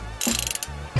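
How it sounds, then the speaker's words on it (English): A ratchet clicks in quick bursts while loosening tight bolts beneath the shifter of a Honda Civic, worked through several extensions. Two short runs of close, crisp ratcheting, with a brief pause between them. "am loosening these bolts here, which is kind of a task and a half, not gonna lie."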